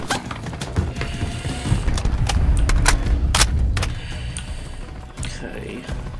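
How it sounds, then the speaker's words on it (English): Heavy gunfire in Call of Duty: Modern Warfare III during a fight against enemies on a roof: a string of sharp, loud shots and bursts that stand out against busy battle noise, with voices talking now and then. "Taking heavy fire. RPGs."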